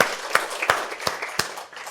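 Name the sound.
audience round of applause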